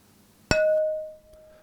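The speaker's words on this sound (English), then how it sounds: "So now let's have a listen to the plate on its own." A single sharp strike on a sampled metal plate rings out with a clear, pure sustained tone that lingers briefly before being cut off.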